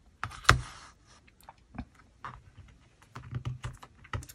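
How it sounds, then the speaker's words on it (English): Paper is torn along a metal ruler in a journaling craft session, giving soft, quiet, close rips and crackles in short irregular bursts with pauses between, and no talking. "Let's use the ruler here, the metal ruler, to tear this."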